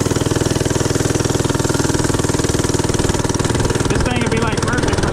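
A small FRP GMB 100 retro mini bike motor runs steadily up close, a loud continuous putter with a fairly even rhythm over the whole stretch, with some added texture near the end.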